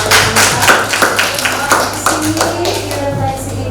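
Applause in an Indonesian school classroom during a lesson on building mobile apps with MIT App Inventor, a steady patter of many hands clapping close by for several seconds.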